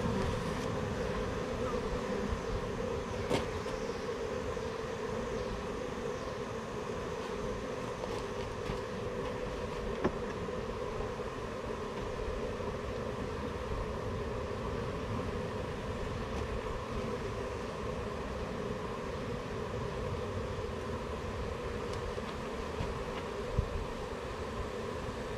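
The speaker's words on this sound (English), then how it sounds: "Quite a few bees on this one." Bees buzzing around an open beehive during a hive inspection, a steady dense hum that continues without a break and is heard alone.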